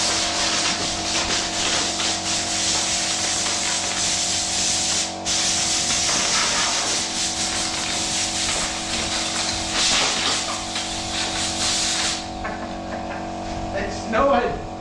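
A concrete floor grinder strips paint from a wall in a room being readied for coving and decorating. A harsh, steady abrasive roar runs loud and unbroken for about twelve seconds, then cuts down to a quieter hum.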